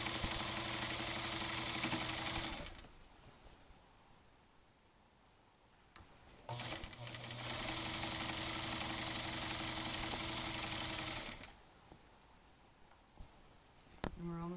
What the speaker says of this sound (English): I'm just simply sewing around. And I can sew right over the needles.